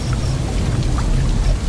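Cartoon rain effect of rain beginning to fall, a steady, loud, dense wash of noise with a heavy low rumble and no pauses.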